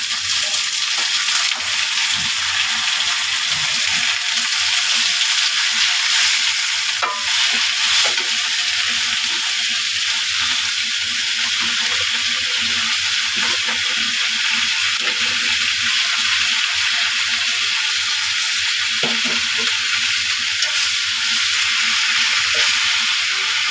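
Malabar spinach frying in oil with onion, garlic and green chilli, a loud continuous sizzle and hiss heard close up, broken by occasional stirring clicks.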